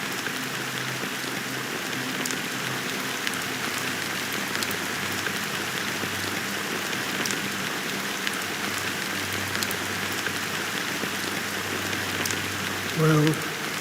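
Rain falling in the video game Honkai: Star Rail, a steady dense patter covering the whole stretch, with a faint low tone and a brief thump near the end.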